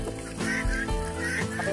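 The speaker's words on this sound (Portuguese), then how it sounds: "Cuidado com as galinhas, né, mãe?" Chickens and a rooster in a yard near a guava tree being pruned, giving repeated harmonic clucks and squawks close by that carry on continuously with no talking.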